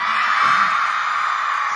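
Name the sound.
concert crowd shouting and cheering loudly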